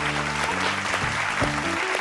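Loud, dense applause from a studio audience at a Bengali family television show, sustained and steady without a break, with no talk over it.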